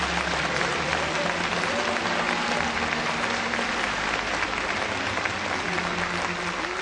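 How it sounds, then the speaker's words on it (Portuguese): A church congregation at a ministry school session bursts into steady, dense applause that stays loud and even throughout, with no voices over it. "Vamos aplaudir agora."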